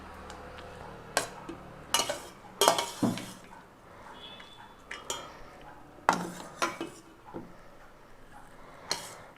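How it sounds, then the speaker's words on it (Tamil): Lemon rice with tempering is stirred in a metal pan, with repeated sharp scrapes and clanks of a spoon against the pan in an irregular rhythm, close and loud, over a faint background. "இந்த ஒயிட் ரைஸ் கம்ப்ளீட்டாக மிக்ஸ் ஆகிற மாதிரி பொறுமையாக கிளறிக்கோங்க"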